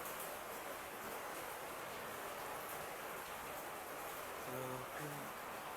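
Heavy, steady tropical-storm rain pours without letup, a dense continuous hiss close by, with a brief faint tonal sound near the end.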